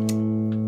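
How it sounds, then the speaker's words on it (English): An electric guitar played through a Donner Morpher distortion pedal with the gain cranked, a single thick, saturated sustained chord that rings on with heavy distortion and no voice over it. "As you can see, it has a lot of nice gain and distortion."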